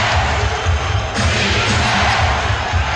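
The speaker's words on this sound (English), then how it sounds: "Chant of defense from the crowd" A basketball arena crowd at a 1996 NBA Finals game between the Chicago Bulls and Seattle SuperSonics, a loud, dense roar of many voices with a rhythmic chanted pulse filling the space.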